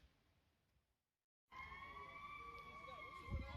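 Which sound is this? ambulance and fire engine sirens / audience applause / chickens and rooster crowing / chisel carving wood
ambulance and fire engine sirens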